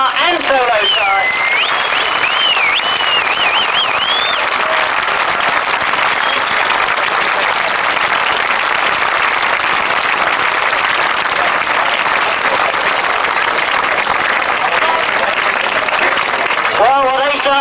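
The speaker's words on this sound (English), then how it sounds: "I'm going to ask for one massive round of applause." A large crowd gives a loud, sustained round of applause for the sidecar and solo class winners at a British Masters grasstrack motorcycle meeting, with whistles and a public-address announcer's voice heard over the dense clapping.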